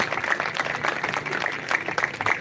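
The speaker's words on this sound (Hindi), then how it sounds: "जोरदार तालियां।" Audience applause welcoming a minister at a public event in India, quiet scattered clapping with uneven rhythm, faint and somewhat distant.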